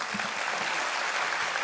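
Steady applause from an audience at a Sun Foundation Youth Day celebration at Mata Sundri, a dense wash of clapping filling the hall without a break for the whole stretch.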